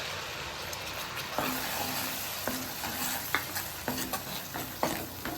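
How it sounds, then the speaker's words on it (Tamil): Ginger-garlic paste blended with onion and tomato is poured into a pan of sizzling fried spices. A steady frying hiss carries through, broken by several sharp spattering crackles and stirring clinks, close up with no voices. "இப்போ வெங்காயம், தக்காளி, இஞ்சி பூண்டில் அரைச்சி பேஸ்ட்டை வந்து ஊற்றிடுவோம்"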